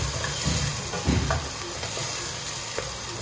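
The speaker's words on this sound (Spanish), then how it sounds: "vamos a dejar que fría bien la cebolla" Onion fries in a pot for a lentil stew, giving a steady close sizzle with a few stirring scrapes and no voices.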